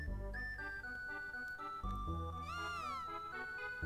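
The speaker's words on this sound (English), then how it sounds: "My cat!" A cat meows in the video game Chrono Trigger: soft, tonal and fairly faint, with a few drawn-out meow calls over quiet background game sounds and no talk.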